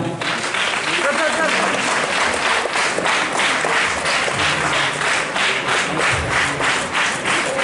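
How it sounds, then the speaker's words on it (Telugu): Loud, sustained applause from a large crowd honouring freedom fighters at an Independence Day flag-hoisting ceremony at the Medchal district collector's office grounds, dense steady clapping throughout with speech mixed in. "మనమందరం చప్పట్లతో అభినందిద్దాము"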